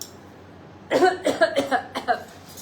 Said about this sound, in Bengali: ঠান্ডার জন্য কাশি হচ্ছে